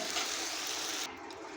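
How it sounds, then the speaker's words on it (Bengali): Water poured into a cooking pan over spiced ridge gourd and potato, a short close rushing splash that cuts off abruptly after about a second. "এখন আমি দিয়ে দেবো জল।"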